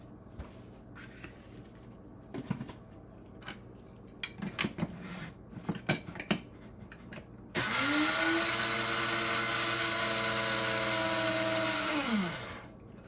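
An electric grinder runs loud and steady for about five seconds, grinding an ingredient for chocolate waffles, then winds down, after some light kitchen clatter and handling noises.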